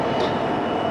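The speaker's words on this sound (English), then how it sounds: "my train I would catch at Peterborough here is just actually coming in now" A train pulling into Peterborough station, a steady close rumble of wheels and carriages filling the platform with no one speaking.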